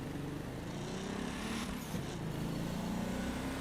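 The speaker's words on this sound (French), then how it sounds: "je vous laisse bien sûr entendre le bruit d'accélération de cette voiture magnifique" A tuned car accelerating in the racing video game The Crew 2 gives a steady engine drone with a rising pitch, moderately loud and alone without any voices.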